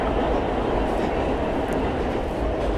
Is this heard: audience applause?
no